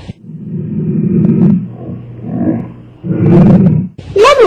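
A lioness gives several deep, rumbling roars and grunts in close, loud bursts separated by short gaps, ending with a brief higher-pitched sound.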